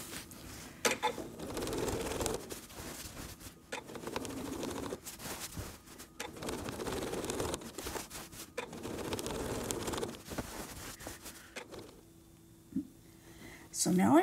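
A sewing machine stitches a spiral on a small quilt in bursts of rapid, steady whirring, with short pauses between runs, under continuous talk. A quiet stretch comes near the end.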